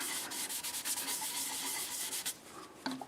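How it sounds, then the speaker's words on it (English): Soft, close rubbing strokes of a rag wiping sanding sealer onto turned maple burl and padauk wood, steady back-and-forth friction, fairly quiet with a brief knock at the end. "And I will just wipe it on with a rag. This is sanding sealer."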